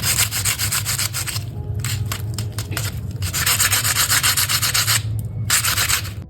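Crisp, crackly crunching of fried potato samosas repeats in bursts, loud and close, with brief pauses between bites; no voices.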